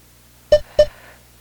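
Two short electronic beeps from a workout timer sound in quick succession, clear and close, over a faint steady hum.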